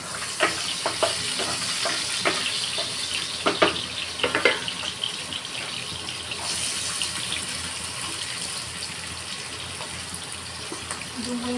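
Capsicum and chillies sizzle in hot oil with popped mustard seeds, a steady frying hiss under a run of sharp clatters and stirring taps early on, settling to a continuous sizzle.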